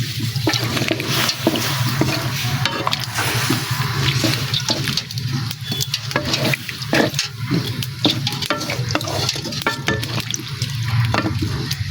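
Jiol fish drop into a hot pan of spiced oil on a clay stove, setting off a loud, continuous sizzle and crackle with scattered pops, heard close and without talking.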